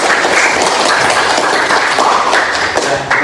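Applause in a classroom, a dense burst of many hands clapping together for about three seconds, loud and fairly close, with no speech over it.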